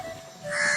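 A crow caws once in a dense forest, a short, harsh call rising out of a low background hum, fairly close and alone with no voices.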